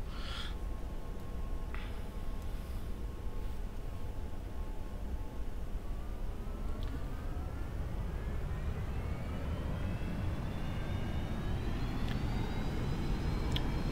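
A Boeing 737-800 jet engine in the X-Plane 11 flight simulator spools up, a steady roar with a whine that rises gradually in pitch over several seconds, with occasional faint clicks.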